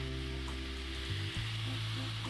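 Mixed vegetables with coriander powder, cumin, turmeric and soy sauce sizzle in a pan, a soft, steady frying hiss with faint stirring, quiet and alone.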